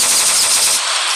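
Rapid automatic gunfire from a weapon in a Minecraft Philippine army guns mod rattles out as one loud, continuous, dense burst with no voices.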